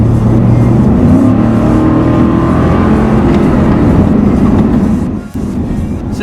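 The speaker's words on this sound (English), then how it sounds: "this V8 does sound pretty good even with the stock exhaust system" A 2014 Ford Raptor with its 6.2L V8 and stock exhaust accelerates hard on a back road, a loud, sustained engine roar climbing in pitch from inside the truck before easing off near the end.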